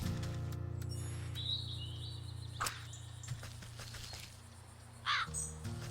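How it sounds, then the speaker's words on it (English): Crows caw in scattered calls in the video game Wytchwood, over a steady low hum, with a few sharp clicks and a brief chirp near the end; calls sound moderately distant. "I'm pretty sure the crows are here."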